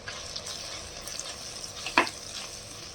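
Masala sizzles softly in a pan with sautéed onions and tomatoes, a low steady frying hiss broken by one sharp clink of a spoon near the end; close and fairly quiet, no voices.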